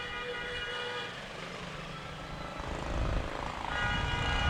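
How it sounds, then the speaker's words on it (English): Little Shriners parade cars beep their horns along a street at a Halloween parade in Brookside, tooting in short bursts over crowd and vehicle noise, louder in the final seconds. "every time you see those little cars, you hear that beeping"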